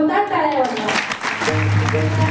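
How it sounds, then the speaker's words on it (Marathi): Audience clapping at a Marathi devotional program after a dance by six girls, a steady broadband patter of applause that builds after a voice and continues under a low hum. "एका जोरदार टाळ्या वाजवा"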